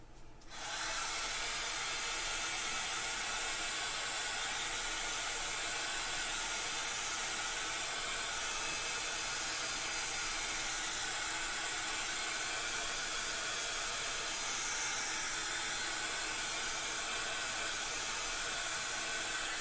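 A hair dryer blows steadily on a craft piece, switching on at the start and then running as a loud, constant airy whoosh with a faint motor whine, no voices.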